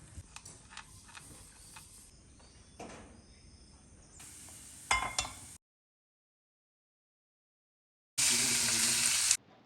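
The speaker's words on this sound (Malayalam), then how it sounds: "ലഞ്ചിന് വേണ്ടിയിട്ട് ഇപ്പോൾ പൊട്ടറ്റോ ഒന്ന് ഫ്രൈ ചെയ്യുന്നുണ്ട്" Potatoes sizzling as they fry in a pan, a soft crackling hiss with faint ticks, cut off by a silent gap and then returning as a louder, steady sizzle.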